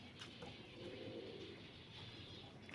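Red-eyed Ya Karim doves coo softly and faintly in a low repeating murmur, set against a steady background hiss and hum.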